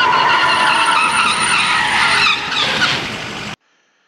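A trailer fitted with ABS hydraulic disc brakes stopping hard behind a truck, giving loud, close tire skidding and squealing for about three and a half seconds before cutting off abruptly.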